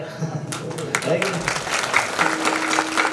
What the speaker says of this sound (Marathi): त्यांच्याकरता टाळ्या वाजवा।